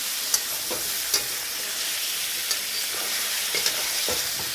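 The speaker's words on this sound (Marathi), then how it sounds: "चांगलं फ्राय करायचं आहे तेलावरचं आहे" Chicken fries in oil in a pan, producing a constant close sizzle with intermittent spatula scrapes and stirring clicks at irregular intervals, no voices.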